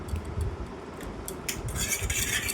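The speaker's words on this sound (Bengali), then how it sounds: "এবার এটাকে এইভাবে মিক্স করতে হবে। এই যে ভালোভাবে এমনি করে ঘেটে যাবে।" Two cracked eggs are stirred in a bowl for a stovetop cake, with close, irregular clinks and scrapes of a utensil against the dish over a soft background. No one speaks.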